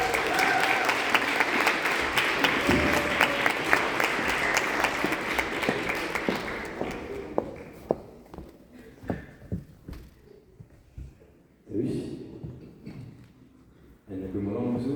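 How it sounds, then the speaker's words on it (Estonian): Audience applause at a spring concert, dense clapping that thins into scattered individual claps and fades, followed by a voice speaking near the end. "Aplaus!"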